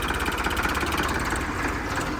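A Swaraj 855 tractor's diesel engine runs at a steady idle, a continuous close-up chugging rumble with no voices.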